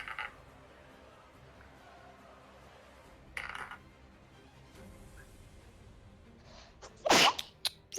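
A short sharp sneeze bursts out at a tabletop gaming session, loud and close, after a stretch of low room hum with a few faint clicks.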